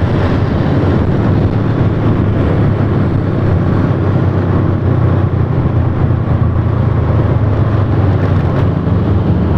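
A 17-year-old Honda Supra motorcycle engine idles steadily up close, giving a continuous low mechanical drone at an even level with no talk over it.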